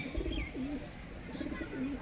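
A racing pigeon at a Punjab pigeon club gives soft, repeated throaty coos, several low warbling calls in a loose rhythm, close but quiet, with no talking.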